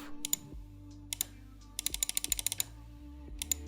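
Sharp Omron computer mouse switch clicks come in short bursts, some single and some in quick rapid runs, close and crisp against a low hum.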